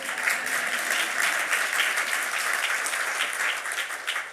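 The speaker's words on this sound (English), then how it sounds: "Thank you for that clap" Guests at a mental health law awards reception give a steady round of applause, even and continuous throughout, moderately close and unaccompanied by talk.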